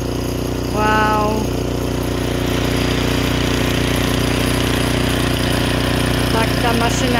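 A Craftsman snowblower clearing snow in Chicago during a snowstorm, its engine running loud and steady with continuous rough mechanical rumble, close by, with brief voices over it.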